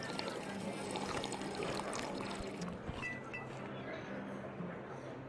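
A liquid pouring sound effect during a tabletop role-playing session, a continuous wet splashing trickle at low volume, blended with background music and occasional voices.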